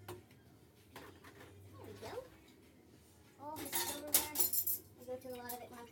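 Dishes and cutlery being stacked and put away in a home kitchen, with a burst of clinking and clattering toward the end, under light background sound.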